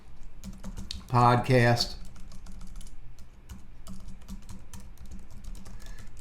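Typing a form title on a computer keyboard produces a run of light, irregular key clicks close by, with a person briefly speaking over the tapping partway through.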